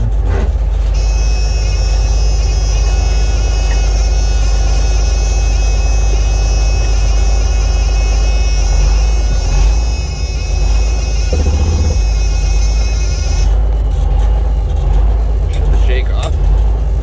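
A 1987 Freightliner FL86 truck with a Cummins Big Cam diesel engine idles loud and steady nearby, a deep continuous rumble with a high whine that fades out near the end.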